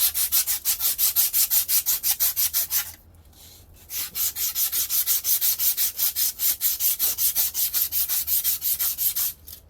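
A metal shaft on a Harvey Spooner KD80 being sanded with 240-grit emery cloth, rapid rhythmic back-and-forth rasping strokes, close and steady, with a brief pause before the strokes resume.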